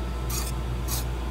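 Quiet rasping of a file or sandpaper shaping the rounded end of a metal part for a Kibler Woodsrunner rifle kit, two short scraping strokes over a low steady background hum, with no talk.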